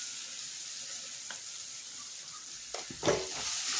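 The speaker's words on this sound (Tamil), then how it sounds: "குழம்பு பொடி நல்லா எண்ணெயில் வதங்கிடுச்சு" Curry spice powder sizzles steadily in oil in a pan as it is stirred, with a couple of scraping, clattering strokes near the end.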